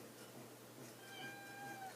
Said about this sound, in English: there's my cat Bertrand again